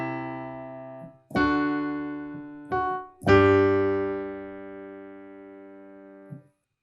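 Part of the O Canada chorus is played on piano with both hands in an easy arrangement: a few clear struck chords, the last held and slowly fading, heard alone and up close.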